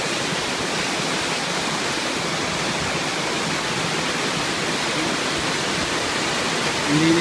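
Rushing water at the edge of Darbat waterfalls, a dense, steady roar of falling and churning water, loud and constant throughout.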